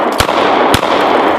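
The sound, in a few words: gunshot from a Rex Zero 1 CP 9mm pistol at a clay pot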